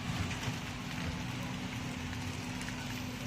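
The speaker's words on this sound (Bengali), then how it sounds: "এখন দেখি আবার বৃষ্টি হচ্ছে।" Rain falls steadily outdoors during changeable sunny-then-rainy weather, a continuous broadband hiss with a low steady hum beneath it and no clear voices.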